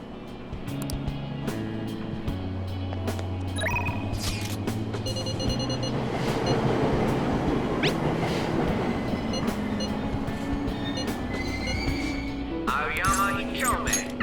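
A subway train in the video game Persona 5 Royal arrives at Aoyama Itchome station, with a low rumbling hum, clattering wheels and a rising wash of noise as it pulls in, then hissing door sounds near the end.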